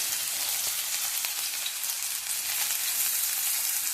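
Onions drop into very hot oil and sizzle loudly and steadily, a dense close hiss that keeps going without a break.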